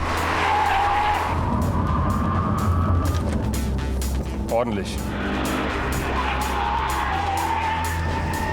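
An Audi R8 V10 sports car brakes hard with a brief tire squeal and engine rumble, while someone speaks a single word over the noise.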